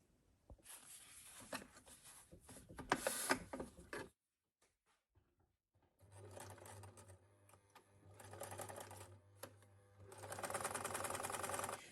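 A sewing machine stitches together pieces of scrap fabric for a drawstring bag in bursts, running fast for a few seconds, stopping, then starting again in several more runs, fairly close and with no talk.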